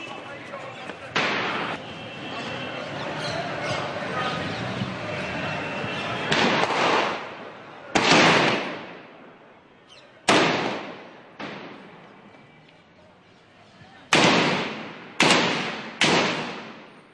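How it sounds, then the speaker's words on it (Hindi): Gunfire from in front of Building Gate 1 during an armed attack: several sharp, loud reports, single and in quick pairs, over a noisy background with a voice speaking. "बिल्डिंग गेट 1 के सामने से फायरिंग की आवाज आ रही है"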